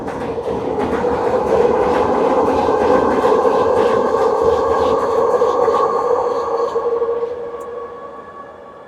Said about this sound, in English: let this train go by real quick.